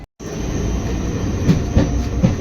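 The Ganadevata Express standing briefly at Shaktigarh station, a loud steady rumble with metallic clanks and a couple of squeaks from the carriages, and no talking.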